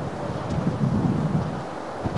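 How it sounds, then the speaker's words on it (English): Strong wind buffets the microphone on a golf course, a dense low roar that swells and then eases over a couple of seconds, heard on its own. "That's how treacherous that wind has become, Steve."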